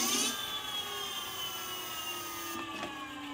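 An electric scooter's hub motor spins backwards during controller self-learning, giving a steady high-pitched electric whine with layered tonal harmonics, close and continuous, shifting slightly near the end.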